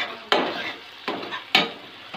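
Okra masala with ginger, tomato and chillies sizzles in a pan, with three sharp bursts of stirring and frying that fade into a steady hiss, fairly close and without talk.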